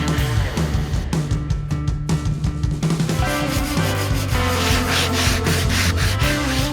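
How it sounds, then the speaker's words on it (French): A loud, steady grinding whir of a wood router with a rounding-over bit shaping wood edges, with rhythmic rasping strokes throughout. "je prends une fraise à arrondir et je refais une passe sur chaque angle"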